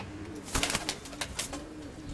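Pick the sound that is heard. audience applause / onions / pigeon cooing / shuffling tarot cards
pigeon cooing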